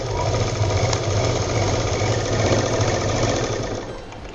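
A sewing machine runs continuously as it stitches fabric pieces for a handmade purse, a dense, loud, rapid mechanical chatter close up that holds steady for a few seconds before easing slightly at the end.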